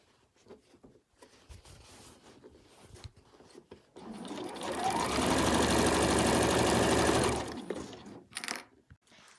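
A sewing machine stitches the seam allowances of a fabric overlocker cover in one loud, steady whirring burst of about four seconds, close up, preceded and followed by quiet handling clicks.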